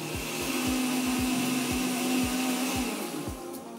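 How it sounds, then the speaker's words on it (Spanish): A blender grinding sauce ingredients for a rice dish, a loud continuous motor whir with a regular rhythmic thumping pulse, close and steady throughout. "Cubriré y voy a licuar por unos 2 minutos aproximadamente"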